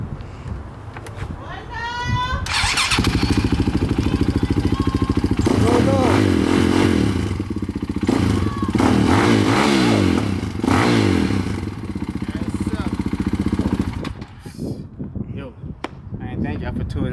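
Four-wheeler engine starting and revving loudly with a rough, rising and falling drone and clattering mechanical noise, close by, with voices talking over it before fading out.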